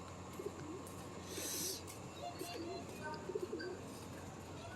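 Wild pigeons cooing at a zoo park in Multan, low soft coos repeating through the clip over general outdoor background noise, with faint voices around.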